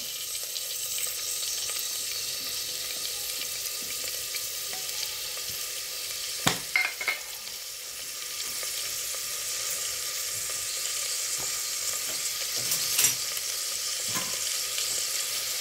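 Onion, chillies and curry leaves fry in hot oil with a steady, even sizzle, broken by a couple of brief clatters of stirring.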